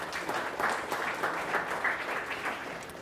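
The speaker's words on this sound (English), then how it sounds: "Thank you. A round of applause." A round of applause fills the room at a coastal environmental awards event, with continuous, even clapping from a sizeable crowd that holds steady throughout.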